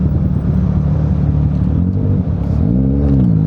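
A modified, loaded Yamaha Aerox scooter of roughly 180 cc revs hard and accelerates close by, its engine note rising steadily with a deep, continuous rumble and a whining climb near the end.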